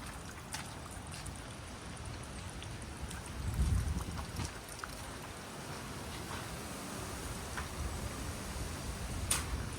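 Strong wind after a storm blows steadily across the microphone, a constant low roar with a stronger gust near the middle and faint ticks and knocks scattered throughout.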